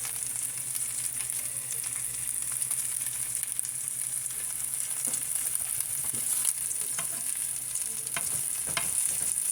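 Pokeweed frying in bacon grease, heard as continuous close sizzling and crackling with occasional scrapes from stirring.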